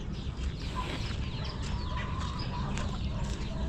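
Hens cluck steadily in a chicken coop, with hens laying eggs and a brood of fourteen chicks; a busy, continuous mix of clucks and peeps over low background rumble, with no talk.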